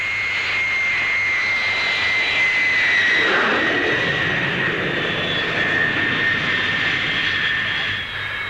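An Avro Vulcan delta-wing jet bomber landing at the Farnborough show in the 1950s: a loud, continuous jet roar with a steady whine, swelling at mid-pass and easing off, heard alone without talk.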